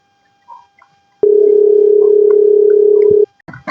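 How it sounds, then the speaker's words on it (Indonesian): A telephone call tone sounds as an unanswered call rings out: one loud, steady electronic tone lasting about two seconds, with short faint bits of sound before and after it. "Kumaha Nis? Diangkat henteu."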